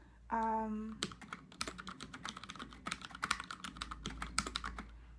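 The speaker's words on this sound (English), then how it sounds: "it does take a lot of force to type" A brief tonal chime, then rapid, irregular clacking of the stiff, heavy-force mechanical keys on a Freewrite typewriter, close and crisp.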